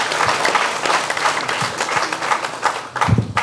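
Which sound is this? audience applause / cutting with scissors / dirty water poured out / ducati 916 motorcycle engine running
audience applause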